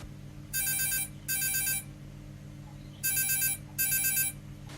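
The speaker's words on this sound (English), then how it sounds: "let's start with a phone call" A telephone rings in four evenly spaced electronic bursts, two close together, a short pause, then two more, clear over a quiet background hum in a radio studio before a call is answered.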